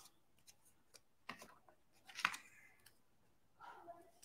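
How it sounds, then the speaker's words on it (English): Scissors snip through a paper vase cutout for a handmade greeting card, giving one sharp close cut that stands out against quiet, sparse handling noises. "maybe we want to cut the vase"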